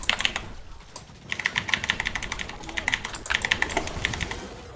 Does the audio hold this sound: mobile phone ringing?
no